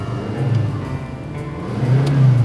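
A Subaru car engine revs up under hand-control acceleration, a steady mid-pitched engine drone that swells louder toward the end, heard from inside the car with no talking.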